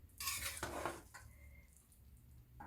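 Cooked rice and dal being stirred with ghee in a pot, a couple of close metal spoon scrapes and clinks followed by quiet gentle mixing, very soft overall.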